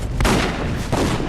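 Gunfire in the video game Dungeon Siege 3, heard as a couple of sharp booming shots over dense, continuous combat noise.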